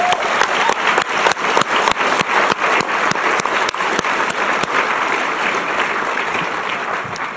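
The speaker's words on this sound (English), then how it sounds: "I'd like to give a round of applause to the voters of San Luis Obispo County" Audience applause at a college opening day, a dense, loud, even round of clapping that holds steady throughout and tapers only slightly at the end.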